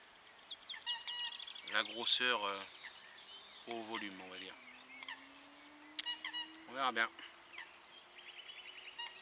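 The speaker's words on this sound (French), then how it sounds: "À part les canards, sinon c'est très très calme." Ducks call in short bursts of quacking near a calm carp fishing spot, several separate calls scattered under someone talking nearby, with a faint steady tone in the background.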